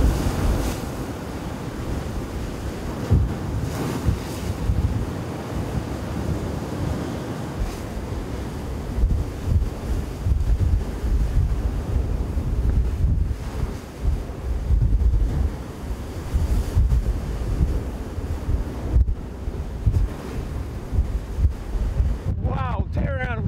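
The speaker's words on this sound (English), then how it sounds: "the wind's already really starting to pick up here at Peggy's Cove" Strong hurricane wind roars and buffets the microphone while heavy surf crashes along the rocky shore at Peggy's Cove, Nova Scotia, a loud continuous rush with surging waves, and voices briefly heard.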